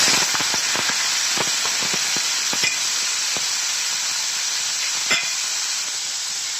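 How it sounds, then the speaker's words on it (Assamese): Grated radish dropped into hot oil with reddened garlic in an Assamese home kitchen, giving a loud, steady sizzling hiss with sharp crackles and pops scattered throughout. "এতিয়া ইয়াতে মই গ্ৰেট কৰি লোৱা মুলাখিনি দি দিলো।"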